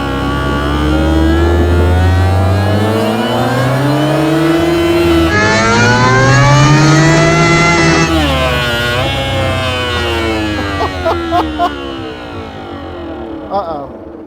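Car engine fitted with a cheap Temu supercharger roars loudly and steadily, pitch swelling and dipping with revs and a rising whine, close up, while people talk over it.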